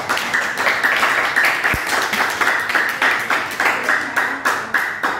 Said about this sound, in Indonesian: Beri aplaus untuk kedua kelompok yang ada di kelas